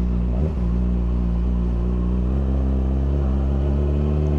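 A Yamaha R6 motorcycle engine running in traffic, a loud steady low rumble with a slight rise in revs partway through, close to the rider.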